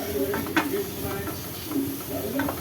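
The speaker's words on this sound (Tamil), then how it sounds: "இது லைட்டாக ஃப்ரை ஆகட்டும்." Cauliflower fries lightly in a pan, a steady close sizzle broken by a few soft stirring scrapes.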